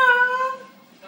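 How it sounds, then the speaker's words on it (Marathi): A cat lets out a single drawn-out, tonal meow up close, loud at first and trailing off, with a brief faint sound after it. "मांजरा असे बोंबत राहिले ना मॅव मॅव"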